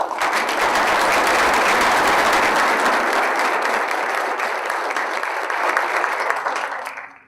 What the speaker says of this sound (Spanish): a quienes les brindamos un fuerte aplauso